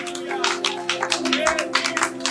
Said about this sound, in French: Nous sommes en train d'acclamer pour Jésus